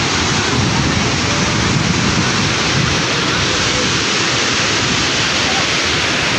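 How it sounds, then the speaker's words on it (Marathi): The roaring waterfall at Gokak on a river swollen by floods after heavy rainfall, a loud, continuous wall of rushing water that fills the whole clip without a break. "परंतु पूर परिस्थिती असल्याने ह्या नदीचं उग्र रूप आपण या धबधब्याच्या रूपानं पाहतो."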